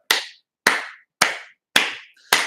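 Five sharp hand claps, evenly spaced about half a second apart, loud and close with no other sound between them.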